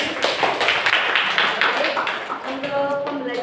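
A classroom of students breaks into a short round of clapping at the end of a lesson, a dense patter of hand claps that thins out as a voice starts speaking near the end.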